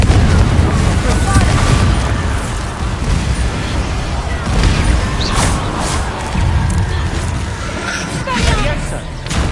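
Confringo spell blasts from Hogwarts Legacy, loud booming explosions with crackling debris, rolling one into another over a dense, busy game soundscape.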